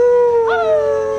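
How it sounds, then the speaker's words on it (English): A little dog howls once in a long, clear, rising-then-sliding tone, played back from a video, close and steady with no voices over it. "They have the little dog in there."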